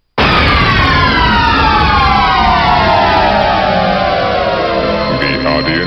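A cartoon parody of the THX sound logo from Tiny Toons: a loud, dense swell of many sliding tones that fans out and rises over several seconds, ending in a harsh, distorted crunch.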